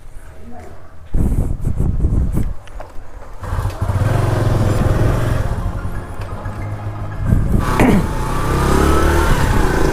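Motorbike engine running steadily on an evening ride, a continuous loud drone that swells and revs around the middle and near the end, with people talking over it.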